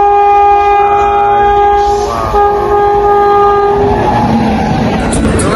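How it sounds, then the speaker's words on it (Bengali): A train arrives at night on the Jalpaiguri to Darjeeling route. Its loud, sustained horn blares up close, then gives way to a heavy rolling rumble and clatter of wheels. "ট্রেন আসছে"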